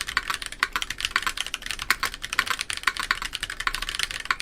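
Fast, continuous typing on an X60 mechanical keyboard in an HHKB layout with a plate, lubed stabilizers and GMK keycaps, dense close-up clacks in a steady rhythm with no voices.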